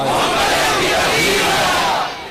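A huge crowd at a religious gathering roars out a slogan in unison, a loud, dense wall of voices held for about two seconds before dropping away.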